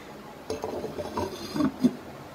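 A few clinks and a scraping rub as a lid is set over a pot of cooking chicken for Delhi-style aloo gosht, brief metallic contacts over quiet background.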